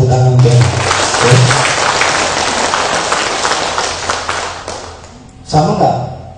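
An audience breaks into sustained applause, a dense wash of clapping lasting about five seconds that swells and then thins out, with a voice heard briefly before and after.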